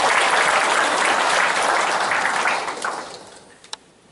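An audience at a Chamber of Commerce breakfast meeting applauds a newly introduced guest. The clapping is loud and dense from the start, then thins out and fades, with a last few scattered claps.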